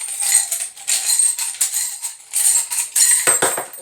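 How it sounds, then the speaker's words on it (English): Small metal charms are shaken and spilled out for a divination reading, a run of bright jingling clinks and rattles in bursts, close up, ending with a few sharper knocks as pieces drop and roll. "let me go ahead and pull some charms for this reading for another clarification"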